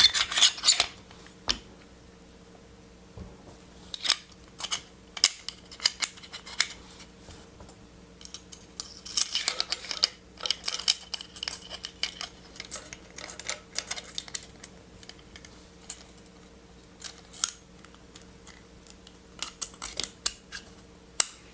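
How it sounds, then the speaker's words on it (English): Kimber .22 conversion kit being reassembled on a pistol, with scattered sharp metallic clicks, slides and taps of small gun parts, close and fairly quiet, with gaps of near silence between them. "let's go ahead and reassemble it first"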